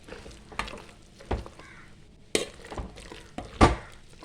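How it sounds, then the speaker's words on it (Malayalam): A spoon stirring kappa puzhukku, a mashed tapioca dish, in a pot: a handful of sharp scrapes and knocks at irregular intervals, close, with quiet gaps between. "ഇനി നമുക്കിതിനെ ഒന്ന് നന്നായിട്ട് ഇളക്കിയെടുക്കാം"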